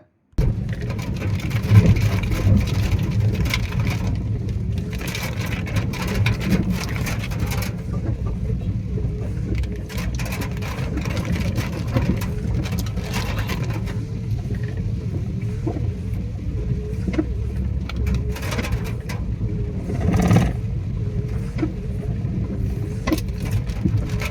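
A vehicle drives steadily down a hill road in heavy rain, its engine a continuous low rumble with road noise throughout and occasional brief knocks, near and fairly loud.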